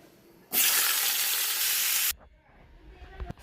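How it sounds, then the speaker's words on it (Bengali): Bitter gourd hits hot oil already used for frying potato and drumstick, bursting into a loud, bright sizzle that holds for about a second and a half, then cuts off to quiet kitchen background. "ওই তেলে এখন উস্তেটাও ভেজে নেব।"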